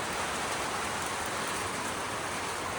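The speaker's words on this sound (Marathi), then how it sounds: "पण लय पाऊस यायला लागला हो" Heavy rain pouring steadily near a cattle shed, a constant dense hiss of falling water with no breaks, fairly close and even in loudness throughout.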